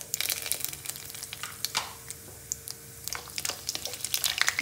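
Whole spices such as bay leaf, cardamom, cloves, black cardamom and star anise crackle and sizzle softly in hot oil in a pan, with scattered pops over a steady low fry and no talking.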